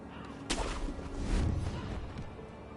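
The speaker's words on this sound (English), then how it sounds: "I used the firecracker which I got recently" In the video game Sekiro, the firecracker prosthetic tool goes off with a sharp, loud crackling burst, followed by noisy rumbling combat sound.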